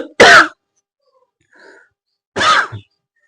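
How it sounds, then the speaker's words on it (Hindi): Two harsh, forceful coughs during a yoga breathing exercise done with a tightened throat, each short and loud, separated by a faint breathy sound in the gap, with no talking. "शुरू में खांसियां आएंगी, क्योंकि गले को आदत नहीं है"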